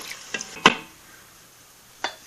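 A spoon stirring beef broth into a pot, with a few sharp metallic clinks and scrapes against the pot, one louder knock near the start and another a moment later, quiet in between.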